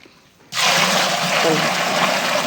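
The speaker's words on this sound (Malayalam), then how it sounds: "ആദ്യം ഒരു പതിനഞ്ച് ലിറ്റർ വെള്ളമാണ് ഒഴിക്കാൻ പോണേട്ടാ" After a brief quiet start, about fifteen litres of water suddenly gush into a container of paddy rice seed, a loud, close, steady splashing rush that continues to the end.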